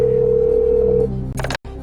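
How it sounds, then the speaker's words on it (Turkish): On a quiz show set, a telephone line sounds a steady electronic tone that holds for about a second, then a short burst of clicking noise follows and the line cuts to silence. "Ahmet Cihat bir telefon çalıyor."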